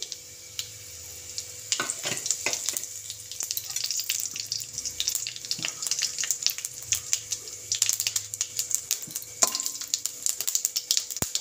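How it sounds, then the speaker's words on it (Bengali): Bay leaves, dried red chillies, whole garam masala and cumin seeds crackle and sizzle in hot oil in a pan, a close, steady hiss broken by sharp little pops and a few stirring clinks, without speech. "ফোড়নটা আমি ভালো করে ভেজে নেব।"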